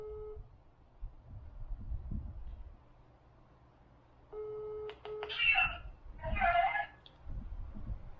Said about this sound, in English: I was calling him from my phone.